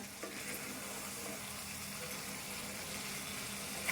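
Ivy gourd egg curry gets stirred in a pan, a soft steady sizzle and bubbling with faint scraping from the stirring, close and quiet, ending with a small clack.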